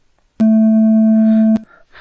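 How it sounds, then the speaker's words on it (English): A synthesized steady tone generated in code, boosted past full scale so it clips and distorts, sounds as a loud, flat, buzzy hum lasting just over a second, then stops abruptly. "If the signal goes above the 1, it starts to have distortion"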